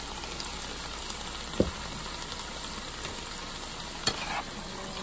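Vegetables stir-fry with a pinch of salt over high heat, a dense continuous sizzle filling the pan, with a couple of brief metallic clanks from the spatula or wok.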